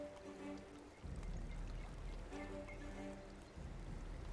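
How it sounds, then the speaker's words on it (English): Water spilling over an edge and falling as a small waterfall in the building game Timberborn, a soft steady rushing pour with some low tonal game sounds layered in. "if it overspills, it should make a little waterfall for us"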